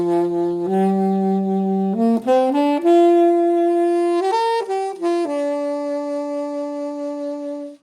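A solo saxophone holds sustained notes with a gentle, steady vibrato made by a chewing motion of the mouth flexing the reed, wavering in pitch, moving through a few pitch changes, close and clear with no talking.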